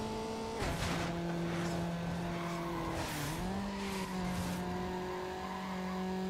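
A car engine revs and holds high in Need for Speed: Underground, a steady loud whine shifting pitch with gear changes, tires squealing along the way, no voices.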